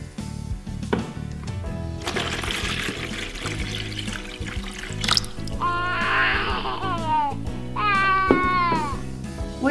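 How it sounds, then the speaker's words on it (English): Warm water pours and splashes into a toy doll bathtub, a trickling, gurgling stream running in bursts, with a high toy-like squeaky tone near the end. "Now it's time to put the warm water into the bathtub."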